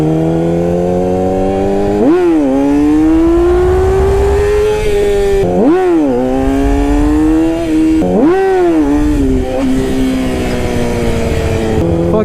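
Yamaha R6 sport motorcycle ridden in first gear on a lap, its engine revving high and loud with three rising-and-falling surges as the throttle is blipped, close and continuous.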